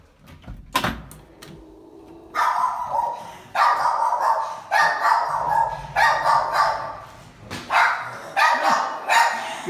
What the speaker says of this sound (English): there is a barking party in progress